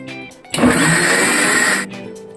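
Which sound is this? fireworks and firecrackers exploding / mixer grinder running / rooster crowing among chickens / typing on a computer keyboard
mixer grinder running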